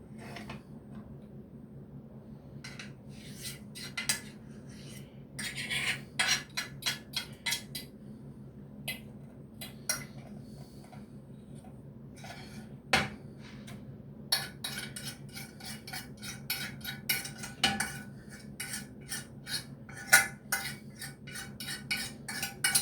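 Meatballs and Roquefort cheese being stirred in a pan, with a run of clinking, scraping utensil strokes against the cookware, uneven and close, over a low steady hum, with no talking.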